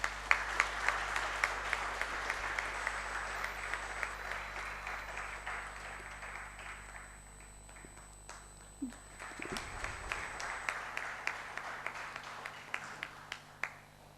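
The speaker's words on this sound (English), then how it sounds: "Please give him a huge round of applause." Audience applause welcoming a speaker onto the stage at a student investment course finale, a steady wash of many hands clapping that dips briefly near the middle, then picks up again with sharper individual claps toward the end.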